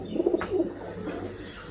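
A pigeon coos in a few quick, soft throaty notes near the start, then only faint background hum remains.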